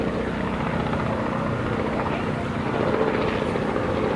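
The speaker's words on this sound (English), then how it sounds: "We got helicopters down here" A helicopter's steady rotor rumble and whine fill the whole stretch, loud and close, with no clear voices over it.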